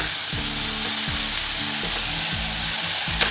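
Soya sauce and vinegar sizzle loudly in a pan with paneer chilli, a steady broadband frying hiss with the rhythmic scrape of stirring running through it, no voices.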